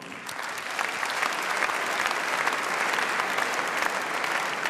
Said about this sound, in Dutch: Maak een applaus voor Diana Monussen.